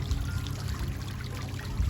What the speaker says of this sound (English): I wonder what it would cost to get a water fountain like that